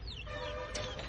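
Chickens with their chicks in a farmyard, steady soft clucking and peeping close by over a constant low background hum, with a few higher chirps near the end.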